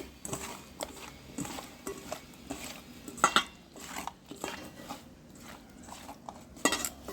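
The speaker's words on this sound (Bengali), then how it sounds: "এখন লবণ, লঙ্কা, হলুদ গুঁড়ো সব মিক্স করে নেব ভালো করে।" Salt, chili and turmeric powder being mixed in a bowl, heard as soft irregular clinks and taps of a spoon against the dish, close and fairly quiet with small pauses between strokes.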